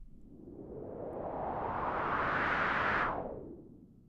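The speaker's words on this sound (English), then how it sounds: "I'm using a white noise with a filter that kicks in slowly" A hiss of white noise swells as a filter gradually opens, brightening into a rising sweep before cutting away sharply near the end.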